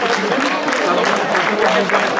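An audience at a gastronomy fair in Le Mée-sur-Seine claps for the Brie de Melun brotherhood, brisk continuous applause mixed with crowd noise and some voices.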